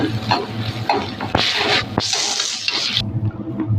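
Onions, dried red chillies and curry leaves sautéing in a pan for cluster bean stir-fry, a steady close sizzle with bursts of hissing and a few sharp scrapes of a spoon against the pan.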